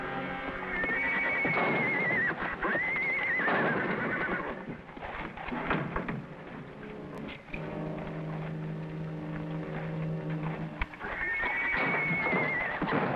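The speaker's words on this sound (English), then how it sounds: "It must be the kid's horse." A horse whinnies loudly a couple of times, with hoofbeats and background noise between the calls.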